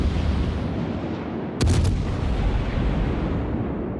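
In World of Warships, a warship's main guns fire a volley of HE shells as one sharp, loud report over a steady rumbling game background.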